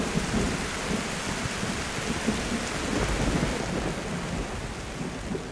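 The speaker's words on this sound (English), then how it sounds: "This is a very, very violent thunderstorm." Violent monsoon thunderstorm in the jungle at night: dense, loud, unbroken roar of heavy rain with low thunder rumbling underneath, no voices.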